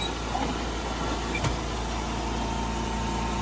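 Lawn mower engine running steadily after a new belt was fitted, a constant low drone with a dense mechanical rattle and one brief clack partway through, heard alone with no talking.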